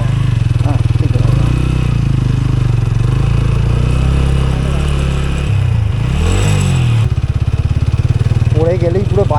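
A motorcycle engine drones steadily and close throughout a ride toward Pareshnath, its pitch rising and dipping briefly midway before settling again, with voices talking over it.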